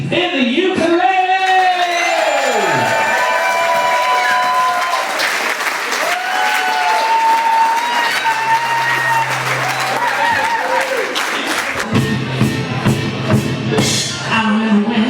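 A lively crowd at a live ukulele band concert applauds loudly for the whole stretch, with whoops, yells and cheering rising over continuous dense clapping, full and close throughout.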